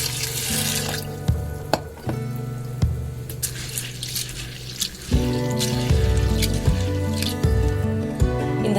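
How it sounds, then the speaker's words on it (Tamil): Sago pearls rinsed in water while cooking, giving a steady wet swishing and squishing with splashes and a few sharp clinks from the vessel, close by and with no talk. "இப்போ இதை லைட்டாக ஒரு தடவை அலசிட்டு நம்ம ஊற வச்சுக்கலாம்."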